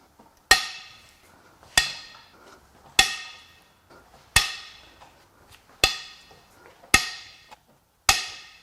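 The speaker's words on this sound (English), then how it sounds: "Time to crack the head bolts loose." Sharp cracks as cylinder head bolts break loose on a failed 2.7L Ecoboost V6 from a 2022 Ford F-150: seven loud, separate snaps roughly a second apart, each ringing briefly, with no voices.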